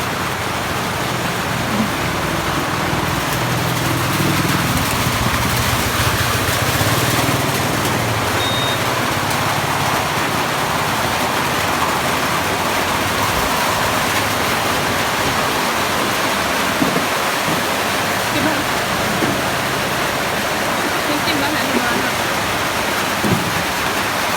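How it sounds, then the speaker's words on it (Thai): Steady, heavy rain pours down without a break, a dense even hiss filling the whole stretch. "ฝนตกแล้วพี่น้อง"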